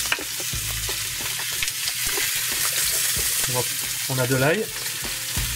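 Seal shoulder meat sears in very hot oil in a pan, a steady broadband sizzle running throughout with some utensil knocks, while a person talks over it.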